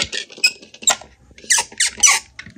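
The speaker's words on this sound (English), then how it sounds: "ooh, that makes a squeaky sound" A Pixar Cars diecast Mack Hauler toy squeaks with a loose connection, giving a series of sharp, high, irregular squeaks and creaks in quick bursts, loud and close with brief gaps between them.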